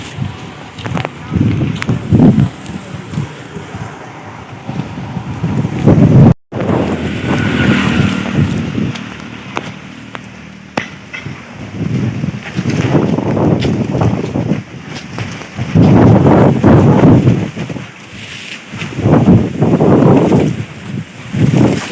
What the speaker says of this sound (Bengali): প্রচুর ঝড় হচ্ছে হাওয়া তো প্রচুর দিয়েছে